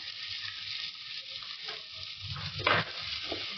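Chopped onions hit hot oil with green chillies in a pan for a cabbage chana dal curry, giving a steady, close hiss of frying with a brief louder burst of sizzle near the end.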